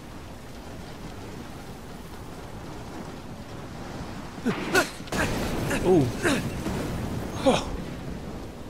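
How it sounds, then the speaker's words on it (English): Stormy sea and rushing wind from the Uncharted 3 game, a steady roar of waves and rain running throughout, with several louder crashing bursts in the second half as a man reacts briefly. "This thing looked crazy, like a real storm out there."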